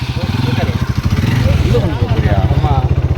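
Motorcycle engine running at low revs and rolling along indoors, a steady close putter with a buzzy low rhythm that continues throughout.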